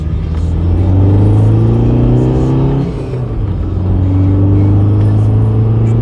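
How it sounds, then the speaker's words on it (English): A VW ALH TDI diesel car with a boost valve fitted pulls hard in second gear up a slight incline. Its engine drone climbs steadily in pitch, eases briefly midway, then keeps rising, loud and close, with no talk. "Do a second gear pull slightly uphill."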